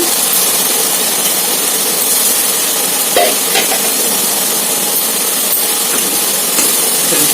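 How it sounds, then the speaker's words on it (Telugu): Loud, continuous sizzling hiss of stir-frying boiled sprouted gram in a pan, with a few faint scrapes and clinks of a spatula over the steady frying noise. "మొత్తం బాగా వేగనివ్వాలండి. కొంచెం పచ్చివాసన పోయే వరకు వేగనివ్వాలి."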